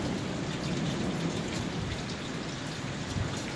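Heavy rain pours during a thunderstorm at a house in Porto Belo, Santa Catarina, with a dense, continuous drumming on surfaces and low rumbling beneath it.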